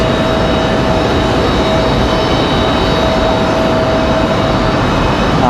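A Mesa Airlines jet arriving from Houston at Raleigh-Durham International Airport, a steady loud engine roar with a sustained whine, heard from nearby without pauses or voices.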